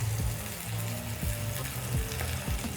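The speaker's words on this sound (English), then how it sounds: "Cook your fish fillet for 2 minutes on each side on medium-high." A tilapia fish fillet frying in a pan over medium-high heat, producing a loud, continuous sizzle and crackle close up, with a few faint knocks underneath.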